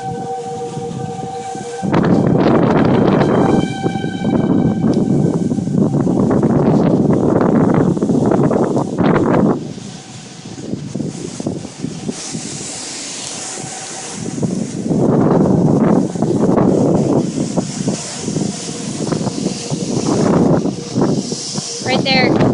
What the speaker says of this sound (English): The wind completely changed direction.